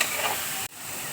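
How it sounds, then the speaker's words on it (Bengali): Brief steady hiss of bottle gourd frying in ghee, close and even, with a sudden momentary break before the sizzle resumes. "লাউটা দেখো এবার আমি ঘিয়ে ভেজে নিচ্ছি।"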